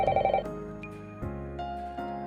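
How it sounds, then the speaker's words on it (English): A telephone rings in a house, a burst of electronic ringing that stops and gives way to sustained tonal music, moderately quiet with no voices. "the phone in the living room is ringing"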